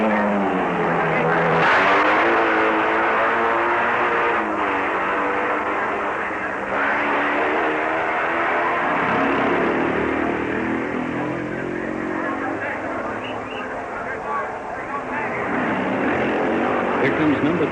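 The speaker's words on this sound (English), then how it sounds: "Here comes number 3, Nick Nicholson, on a 350 BSA, leading his class" Racing motorcycles, including a 350 BSA, in the 1958 Catalina Grand Prix, engines droning and revving loudly with rising and falling pitch as a commentator talks over them.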